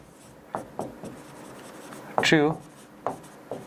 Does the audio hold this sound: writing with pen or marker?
yes